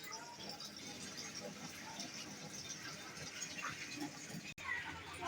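Water running through a long pipe brought from a neighbour's house into a home: a steady, hissing gush of flow that continues throughout, with faint background activity.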